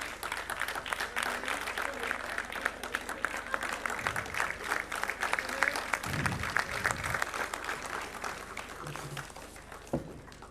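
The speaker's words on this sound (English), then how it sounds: "please give a big round of applause to the Department of Microbiology" Applause at a medical college foundation day and convocation as an award goes to a department, with a sustained crowd clapping throughout and low murmurs and brief voices rising beneath it in the middle and near the end.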